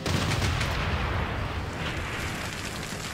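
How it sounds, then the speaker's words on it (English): Ranged attack on an anti-tank crew in a Civilization video game, heard as a steady low rumbling barrage of distant booms and crackling fire that slowly fades. "let's ranged attack on these anti-tank crew"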